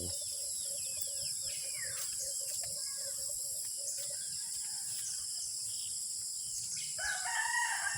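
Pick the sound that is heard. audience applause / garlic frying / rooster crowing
rooster crowing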